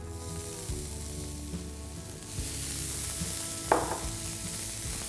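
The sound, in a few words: sautéing soya granules with spices in a pan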